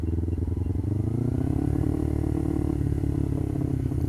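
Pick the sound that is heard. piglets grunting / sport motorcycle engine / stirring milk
sport motorcycle engine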